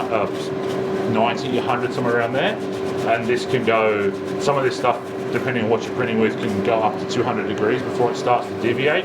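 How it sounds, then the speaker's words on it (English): A vacuum fan runs at a 3D print finishing station, a steady mechanical hum with a constant tone sitting under continuous close-up talking. "So the noise you're hearing is a vacuum fan."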